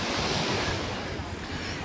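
Ocean waves along the coast at Rimini, Italy, a steady broadband wash of surf with wind rushing across the microphone, continuous and fairly loud throughout without clear breaks between waves.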